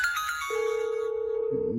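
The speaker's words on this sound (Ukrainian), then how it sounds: "ми нажимаємо на кнопку визивної панелі. Виконуємо дзвінок." A Dahua intercom call panel at a gate sounds its ringing tone after the call button is pressed: a descending chime followed by a long, steady electronic tone that pulses slightly, then a brief new tone at the end.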